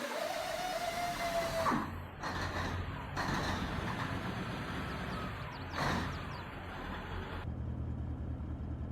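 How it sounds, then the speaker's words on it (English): Truck in Farming Simulator 22 starting up, a steady engine rumble with a brief rising whine at the start and repeated hissing bursts as the air brakes pressurize. "nice little engine audio there as it starts up and turns on. You get the air brakes there as they pressurize"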